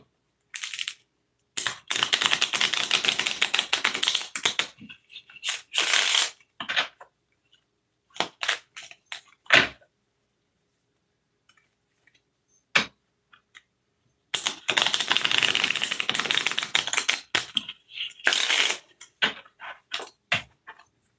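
A deck of playing cards gets a vigorous riffle shuffle, heard as two long, loud, crackling bursts of flicking cards with scattered taps and pauses between them; no one speaks.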